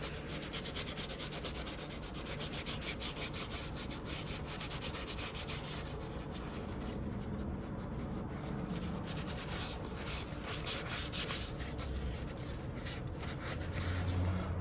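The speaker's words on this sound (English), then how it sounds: "We're gonna get a little sandpaper here and go over that real quick" Sandpaper is worked over a Spyderco knife under repair, giving a continuous close, even rubbing rasp with quick back-and-forth strokes throughout, with no talk.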